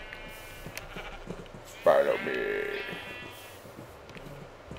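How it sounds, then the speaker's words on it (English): A sheep in a video game gives one loud, wavering bleat close by, lasting under a second, right after someone speaks. "Follow me, sheep."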